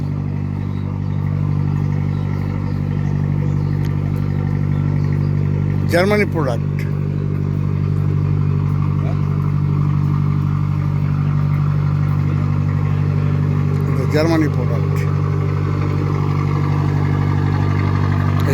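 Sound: cruise boat engine running at the stern

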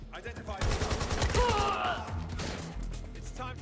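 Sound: AK rifle gunfire in the Watch Dogs Legion video game

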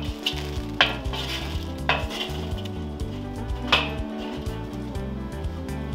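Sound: hot charcoal being spread in a grill

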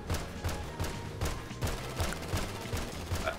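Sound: gunfire shooting a player in GTA 5 video game

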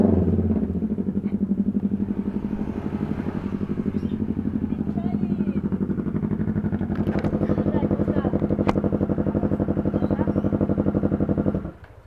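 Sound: Yamaha NMAX motor scooter riding

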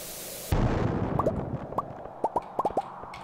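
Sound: bomb exploding in the video game Stardew Valley

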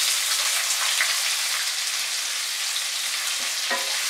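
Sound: chopped onions frying on medium heat

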